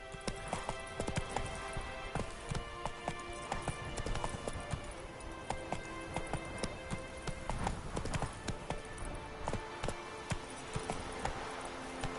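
The horse Roach's hooves clip-clop in The Witcher 3 on PS5, a steady, close, rhythmic trot of hoofbeats that continues over a busy game soundscape with no speech.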